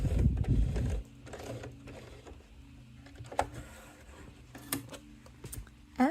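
A domestic sewing machine stitching Velcro onto a zipper travel pouch, with brief mechanical whirring and clicking after a short loud rustle, then light ticks and taps from the hand wheel and fabric, close up and without speech.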